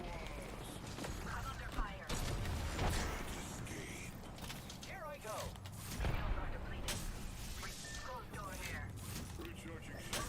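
Enemy gunfire in the video game Dead by Daylight, bursts of shots and mechanical clatter scattered through a busy game soundscape, loud and close with sharp spikes around two and six seconds.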